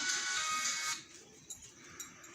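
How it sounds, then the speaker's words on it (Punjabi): A phone rings with a bright electronic tone for about a second, then stops, leaving a quiet room with a few faint clicks. "ਹੁਣ ਤੁਰਨ ਵਾਲੇ ਫੋਨ ਵੱਜ ਜਾਂਦਾ"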